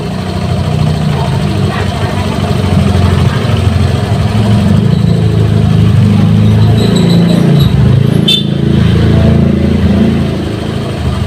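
A Honda Vario 150 scooter engine idles with a loud, steady low rumble throughout, with a voice speaking over it and a brief click-like noise late on.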